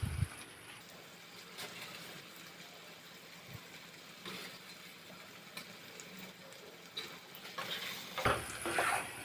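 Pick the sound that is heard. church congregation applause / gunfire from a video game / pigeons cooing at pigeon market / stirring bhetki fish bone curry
stirring bhetki fish bone curry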